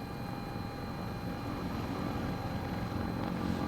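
Simulated Sikorsky S-76 helicopter in Microsoft Flight Simulator, decelerating on an ILS approach: a steady, loud rotor and turbine drone with constant tonal whine, continuous throughout and free of speech.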